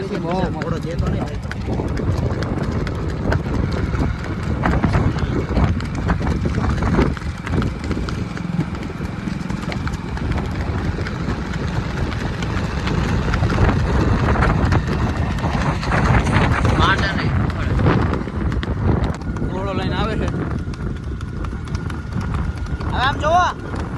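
Horse hooves clip-clop steadily on the ground outdoors for the whole stretch, with people talking loudly over them and some wind rumble.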